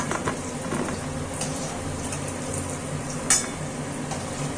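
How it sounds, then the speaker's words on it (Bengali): Potatoes fry in hot oil with a constant soft sizzle and crackle, close up, broken by a few light utensil taps and one brief sharp clink, with no one talking. "আলুটা আরেকটু ভাজা হবে সুন্দর ভাজা হচ্ছে"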